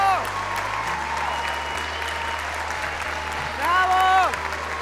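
A concert audience at a televised final applauds the ensemble and the orchestra, a steady round of clapping heard under a host's voice.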